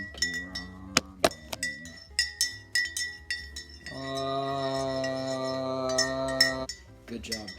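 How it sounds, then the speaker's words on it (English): A metal spoon clinks against a bowl while stirring ramen, bright rapid taps in an irregular rhythm, then a sustained ringing tone mid-way before more clinks, close and fairly loud. "You're done stirring ramen."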